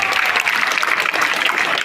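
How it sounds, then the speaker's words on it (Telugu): A crowd claps loudly and continuously at the opening of a student science exhibition, steady dense applause from start to end with no pause. "అనౌన్స్ చేయగానే మనం గట్టిగా చప్పట్లతో ఆమోదించాలి"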